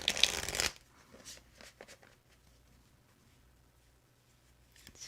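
Tarot cards are riffled in one short, crisp burst at the start, followed by faint soft card handling and light taps in a quiet room.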